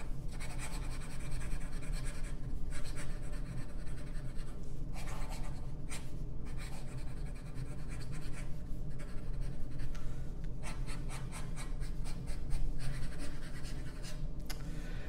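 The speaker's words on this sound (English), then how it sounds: "Fast writing." A Waterman Kultur fountain pen with a fine nib writes quickly on paper, making a steady close-up scratching and rustling that runs without a break, with small pauses between strokes and no talking.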